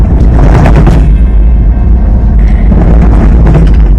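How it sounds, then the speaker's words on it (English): A noisy car heard from inside on a trip through high-country tracks, a loud, heavy low rumble that fills the whole stretch with rattling mid-range noise over it. "this car's so fucking noisy"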